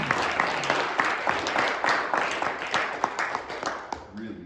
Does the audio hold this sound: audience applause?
yes